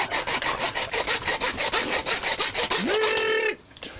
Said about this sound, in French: lorsque vous ne trouvez pas le coussinet entre les deux vertèbres, on peut y aller avec la scie aussi